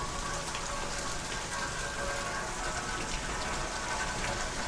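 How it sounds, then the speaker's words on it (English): Torrential downpour in Las Vegas, a steady dense hiss of heavy rain pounding surfaces, loud and continuous throughout with no voices. "It is a torrential downpour right now."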